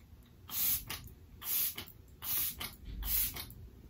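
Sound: hydrating face mist being sprayed

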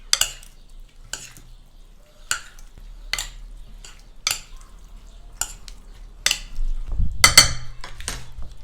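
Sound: stirring meat with pomegranate molasses and rock salt

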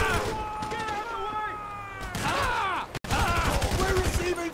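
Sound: gunfire in video game Grand Theft Auto V

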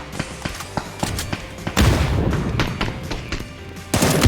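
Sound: gunfire in video game PUBG

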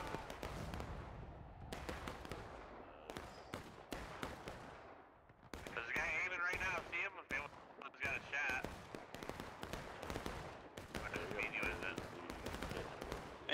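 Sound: musket gunfire in the video game War of Rights

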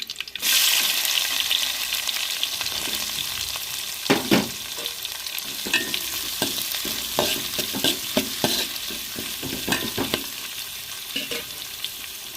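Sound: chopped onions frying in a pan

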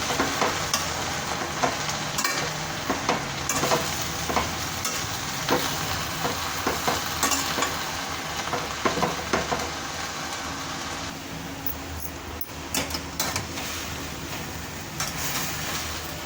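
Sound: alfalfa greens being sautéed in oil in a pan

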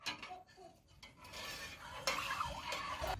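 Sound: stirring sugar into grape molasses mixture in a pot

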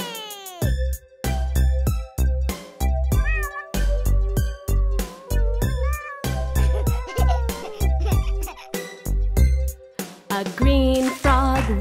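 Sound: cat meowing loudly

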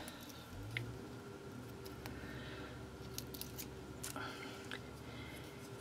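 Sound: cutting cord into pieces for a necklace

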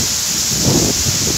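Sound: thunder and heavy rain in a storm

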